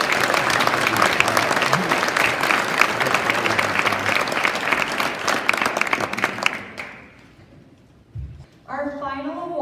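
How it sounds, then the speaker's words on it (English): Sustained applause from an audience at an eighth-grade graduation ceremony, dense clapping that fades out, followed by a brief voice. "A big round of applause."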